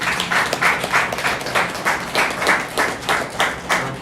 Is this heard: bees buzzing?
no